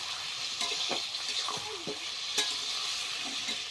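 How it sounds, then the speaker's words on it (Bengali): Chicken curry stirred in a pan with turmeric and salt, a spatula scraping and knocking several times over a steady sizzle of frying, close and fairly loud, with no talking. "এবার একটু ভালো করে নেড়ে চেড়ে নেব।"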